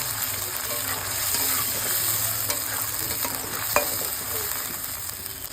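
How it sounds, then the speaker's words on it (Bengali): A paste of garlic, ginger and tomato sizzles with fried onions in a pan while being stirred, a constant close hiss broken by scraping and a sharp clink or two. "মশলাটাকে ভালো করে এবার নাড়াচাড়া করে নেব।"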